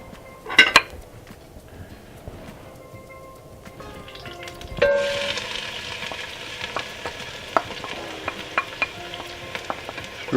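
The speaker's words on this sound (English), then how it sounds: "Threw a little piece of onion there to see if it was ready. And my oil was ready." A small piece of onion drops into hot oil in a pan while making chili. A few sharp utensil clinks come first, then a steady sizzle starts partway through and continues, broken by occasional clinks and taps.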